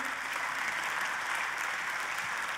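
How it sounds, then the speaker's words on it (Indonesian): A church congregation applauds at a service, a dense steady burst of clapping from many hands throughout, fairly close and without speech. "bolehkah sebelumnya saudaraku kita berikan tepuk tangan terlebih dulu"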